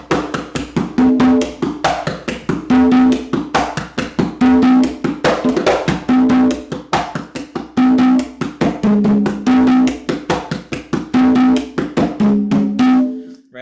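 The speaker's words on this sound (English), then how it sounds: "the conga drums, let me show you how versatile that is" Conga drums play a son montuno rhythm, a loud, steady, repeating pattern of ringing open tones and slaps that loops continuously with no talking.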